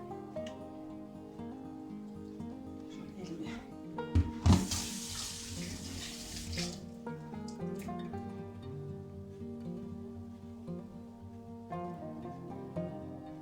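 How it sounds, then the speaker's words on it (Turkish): Water runs from a tap into a pan of village chicken for an oven dish, a soft steady trickle with a brief louder splashing burst partway through, quiet and close. "bunun üzerine su koyuyorum"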